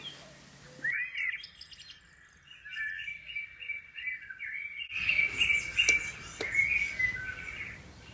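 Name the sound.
cuckoo call from hidden speaker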